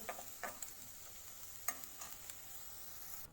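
Taro root and curry leaves fry in a pan with a soft, steady sizzle, broken by a few light clicks and scrapes of stirring. The sound is quiet and close, with no voices.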